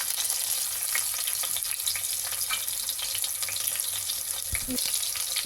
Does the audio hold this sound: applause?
no